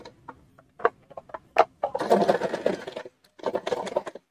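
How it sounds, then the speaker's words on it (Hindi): Sewing machine stitching buckram onto the bottom of a salwar, short bursts of motor whirring broken by taps and pauses, close and fairly loud. "मैं एक पैर की सिलाई लगा रही हूँ यहाँ पर"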